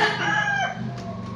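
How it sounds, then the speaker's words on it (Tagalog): Roosters crow loudly with harmonic, drawn-out calls close by, chickens clucking beneath them, continuous through the whole short stretch. "Kaya pasensya na po talaga sa mga boses ng manok."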